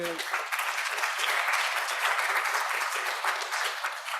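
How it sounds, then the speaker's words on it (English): A crowd at a conference side event applauds steadily, a dense wash of clapping from many hands that holds at an even level throughout. "that does indeed deserve an applause"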